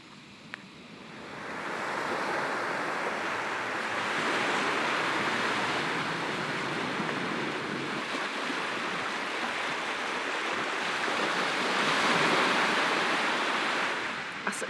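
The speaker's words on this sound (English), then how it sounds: "so nice to be listening to the ocean again from the tent" Ocean waves wash onto a beach near Muscat, Oman, heard from a tent at a campsite: a steady, close, continuous surf roar that swells slightly in places, with no voices.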